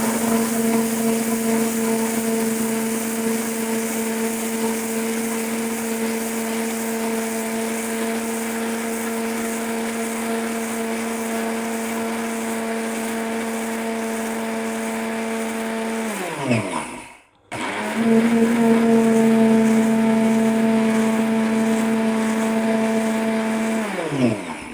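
An Orpat blender grinds rice into powder with a loud, steady motor whine, winding down briefly to near silence and then surging back up at full speed.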